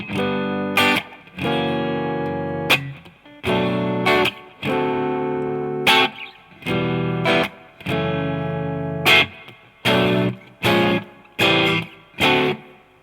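An electric guitar with effects strums the repeating chord progression of a song slowly, each chord ringing for a moment before a short pause and the next change.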